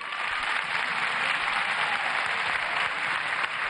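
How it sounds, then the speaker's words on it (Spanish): Steady, dense applause from a crowd at a ceremony where older adults receive benefits, loud and sustained throughout with no talking over it. "Aplauso, por favor."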